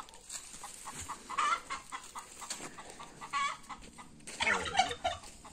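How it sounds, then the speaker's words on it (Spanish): An angry turkey gobbles repeatedly in bursts at close range on a rural hunting outing, with clucking fowl noises mixed in over a low background. "el guajolote ya está enojado, miren"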